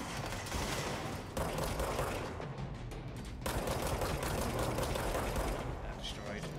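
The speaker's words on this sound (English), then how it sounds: "Yes, that is a minigun." Sustained minigun fire roars through Control, a dense continuous loud burst with a brief break midway before it resumes, while someone talks underneath.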